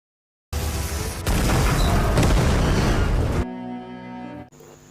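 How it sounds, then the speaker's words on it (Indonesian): A film explosion blowing up a police car, a sudden loud blast that roars steadily for a few seconds before cutting to a tonal musical sting. "Lalu dia ledakan mobil Martin hingga menjadi abu."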